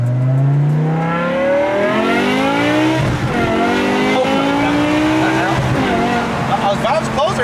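A BMW E60 M5 V10 with a new exhaust system revs and pulls hard while driving, its exhaust note rising and falling through gear changes, loud and close, with people talking over it.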